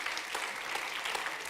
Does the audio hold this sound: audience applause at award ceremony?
yes